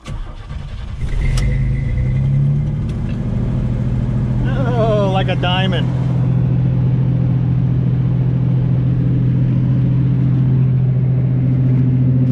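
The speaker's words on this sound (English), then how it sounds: "This truck is much louder." An old pickup truck that burns a lot of fuel cranks and fires up, then settles into a loud, steady, rumbling idle that continues throughout, with a brief spoken remark over the running engine.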